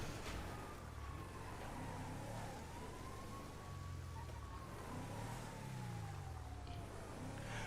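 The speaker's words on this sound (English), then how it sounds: "Why am I hearing a siren?" A wailing siren rises and falls steadily over a constant engine rumble, like a patrol car passing in a driving game.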